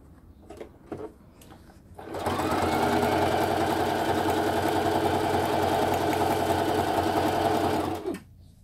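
Sewing machine stitching a money purse, running steadily for about six seconds after a few soft handling taps, fairly loud and close, then stopping abruptly.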